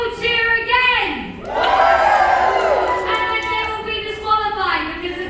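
A crowd cheers at a Diaper Dash baby crawling race aboard the Disney Magic cruise ship: loud, close whoops and shouting voices, swelling into a dense burst of cheering in the middle.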